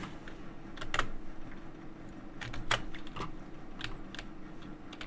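Keys on a computer keyboard with an American layout are tapped in quiet, scattered clicks over a steady low background hum, each press faint and sharp, with irregular gaps between strokes.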